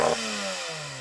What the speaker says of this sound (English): If I put it into first gear, let me rev it higher because it thinks I want to launch